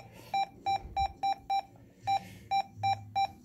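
A President Ronald CB radio sounding its roger beep: about ten short, bright electronic beeps in an uneven rhythm, each a crisp tone over a quiet background hiss, with no talking.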